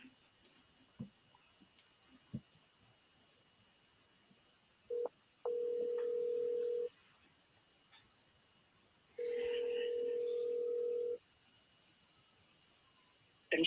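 A phone call being placed, with faint dialing clicks, then two long, steady ringback tones separated by a pause, heard close with no talking.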